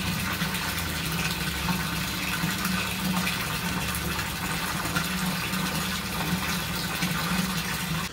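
Water pours and gushes steadily as fish are released from a container into a pond, a continuous close splashing flow with no speech.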